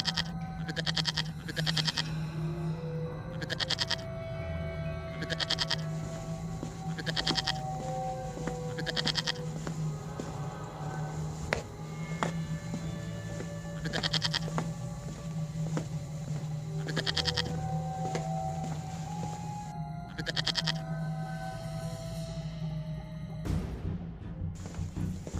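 A herd of goats bleats repeatedly at moderate distance over a steady low background hum, with calls arriving in irregular bursts throughout.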